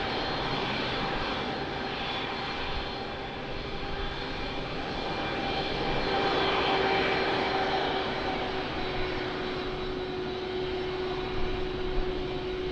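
Airliner on approach at Lisbon Airport, a continuous roar of aircraft engines with a steady whine, fairly loud and sustained without talk.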